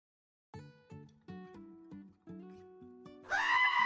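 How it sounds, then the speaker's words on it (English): A goat bleats in a series of short, loud, wavering calls, about seven in a row, ending in a long, harsh scream-like bleat, close and alone with no talk. "the screaming goat is necessary"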